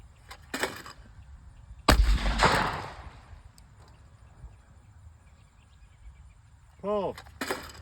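A Retay Ace shotgun fires a waterfowl shell of 1 1/16 ounce at 1,550 feet per second: one loud, sharp report trailing off, with quiet outdoor background and a second burst near the end.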